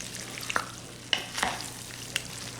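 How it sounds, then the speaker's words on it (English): A spoon stirs a cheesy kielbasa and potato casserole in a pot, giving a few separate scraping clinks over a low steady sizzle. "Let's give it a good stir here."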